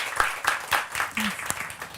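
An audience applauds Zohra, a woman evacuated from Afghanistan after the Taliban takeover, with a thinning, uneven clapping of fewer hands, distinct claps spaced out as the applause winds down.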